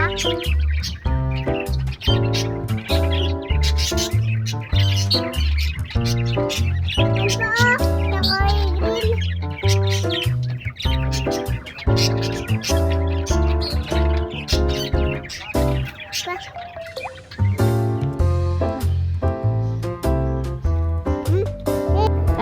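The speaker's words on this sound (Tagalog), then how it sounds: "tinignan na rin namin itong mga alaga ni Brother Deer na mga ibon." Pet birds in a home chirping and calling in quick repeated bursts, fairly close and continuous, with faint voices in the background.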